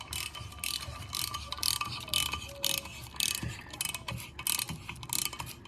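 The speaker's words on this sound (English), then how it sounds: "it's just barely the weight of the ratchet to clean out the threads" A ratchet clicks rapidly and repeatedly as it cleans dirt and old grease from the threads of a knuckle stud on an FJ80, close and steady in short bursts.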